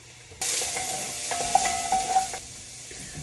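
Sautéing in a pan before hamburger meat goes in: a sudden loud sizzle bursts in and holds steady, with a few utensil scrapes and clinks, then eases slightly toward the end.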